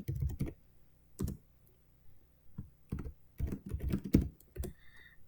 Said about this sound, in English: So you just go through and you type what you see.